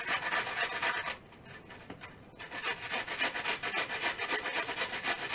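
Half an onion grated by hand on a kitchen grater for homemade potato cakes, a steady close rhythmic rasping of quick repeated strokes with one short lull partway through.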